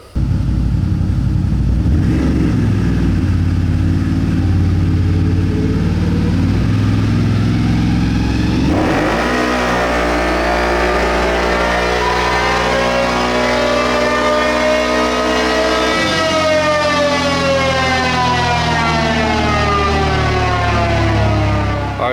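A CFMOTO CFORCE 1000 ATV fitted with a stage 2 clutch kit and 30-inch tires runs loud and steady, its engine swelling through repeated rising revs with smooth climbing tones, then dropping back to idle before climbing again.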